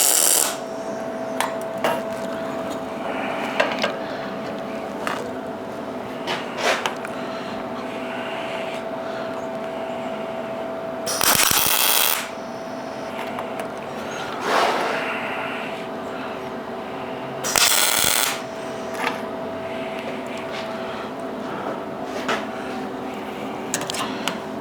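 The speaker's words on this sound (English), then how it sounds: "I'm just kind of finding little areas to weld into." Welding on a CertiFlat FabSquare steel welding table produces a continuous crackling hiss over a steady electrical hum, broken by a few short, louder bursts, with no voices.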